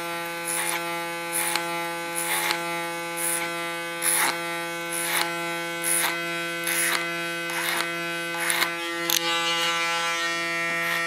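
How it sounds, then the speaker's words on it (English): An electric hair clipper buzzes steadily, with a series of short bursts of cutting roughly every half second as it works through a child's hair. "Use my clipper"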